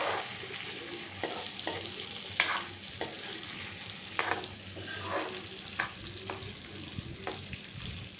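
Tomatoes frying in oil with chicken in a pan, a continuous sizzle broken by repeated scraping stirs of a utensil, close and steady with no talking.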